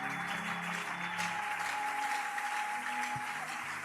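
A church congregation applauds at an evening service, steady dense clapping filling the room throughout, with a few faint voices underneath.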